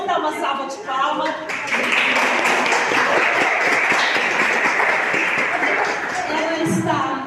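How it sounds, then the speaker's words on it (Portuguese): Church congregation at an Adventist service applauding, with brief voices at the start and then a loud, sustained burst of clapping that fills the room and carries on to the end. "Vamos dar uma salva de palmas."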